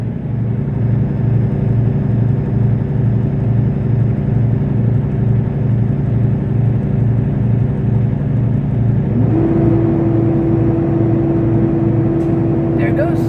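A semi truck idles with a steady low rumble during a pretrip inspection. About two-thirds of the way through, the engine tone shifts as the air compressor governor cuts out at around 125 psi, followed near the end by a brief hiss.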